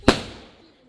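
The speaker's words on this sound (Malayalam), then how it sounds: "പടക്കം പൊട്ടിച്ച്" A single firecracker bursts with a sharp, loud bang at close range, followed by a brief fading rumble and crackle.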